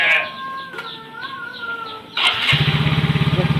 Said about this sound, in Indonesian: Ini hirup motor teh.